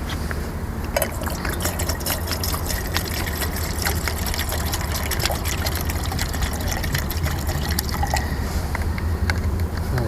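Water, 400 ml, poured into a camping pot meant for a Solo Stove Lite wood-burning gasifier stove, a continuous trickling, splashing fill heard close up and steady throughout with no talk.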